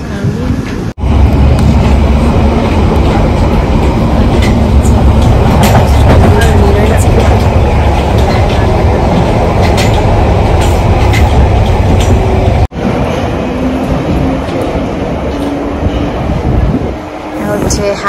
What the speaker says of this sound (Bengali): এটা হচ্ছে লন্ডন মেট্রো